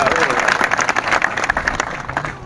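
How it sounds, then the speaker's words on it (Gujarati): Applause and clapping ripple through a crowd at a farmers' protest rally in Halvad, dense and close for a couple of seconds with voices mixed in. "તાળી પાડો ભાઈ."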